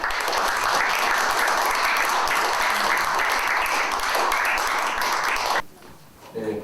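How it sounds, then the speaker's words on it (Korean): Dense, loud audience applause welcomes a lecturer at a political forum in Korea, holding steady for about five and a half seconds before cutting to quiet room noise and a brief voice. "큰 박수로 환영해 주시기 바랍니다"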